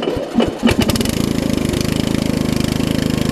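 A small Murray riding lawn mower engine with an exhaust leak cranks with a few sputtering turns, then catches and settles into a steady, loud, throbbing idle.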